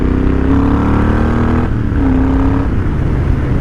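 Triumph Thunderbird 1700 muscle bike engine pulling under an opened throttle, a steady loud droning roar with rising pitch sweeps, heard from the rider's position with constant wind rush.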